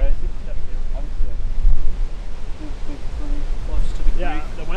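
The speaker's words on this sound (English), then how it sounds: "Wind is left to right, about 35 miles an hour." Strong wind of about 35 miles an hour gusting across a golf course, a rough low buffeting rumble against the microphone throughout, with people talking over it.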